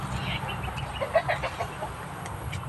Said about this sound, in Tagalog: Inis ako ng aking mga manok